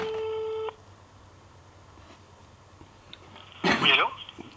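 A telephone line sounds a steady ringback tone during a call transfer, then falls quiet before a short burst of louder noise near the end.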